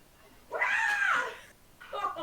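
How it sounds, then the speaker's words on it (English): A screeching, feral-cat-like yowl in a game session, loud and drawn out for about a second, followed by a shorter second cry, with no words spoken over it. "Sounds like a feral cat."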